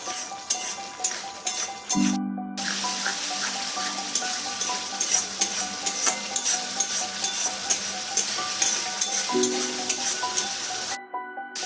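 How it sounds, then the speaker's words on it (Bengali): Tomatoes with salt and a little sugar being stirred and sautéed in oil for a paneer masala, a steady close sizzle with repeated scraping spoon strokes and two brief pauses, no talk. "টমেটোটা তিন মিনিট ধরে কষে নিয়েছি তেল ছেড়ে দিয়েছে"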